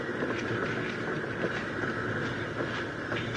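A train standing held at a stop, with a steady mechanical rumble and hiss filling the whole stretch and faint irregular clanks over it, fairly loud and continuous.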